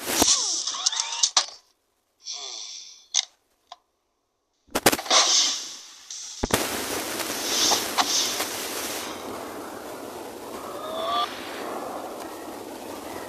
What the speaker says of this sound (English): Now the rocket launcher.